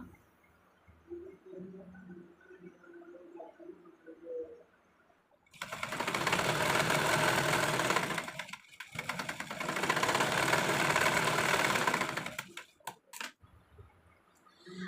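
A sewing machine stitches a cigarette pant slit from one end to the other in two steady, whirring runs separated by a short pause, after a quiet stretch with faint background sounds.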